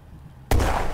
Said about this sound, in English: Mortar number three.